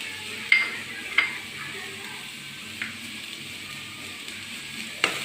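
Sliced onion frying with grated carrot in a pan, a soft continuous sizzle broken by a few sharp scrapes and clinks from a utensil stirring against the pan.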